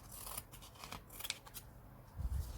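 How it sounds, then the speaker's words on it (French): Scissors snip through paper around a round box in quick close-up bursts of short cuts, a few crisp snips clustered together, then a soft handling thump at the end; no voice. "Et là, tout le tour, on va venir couper"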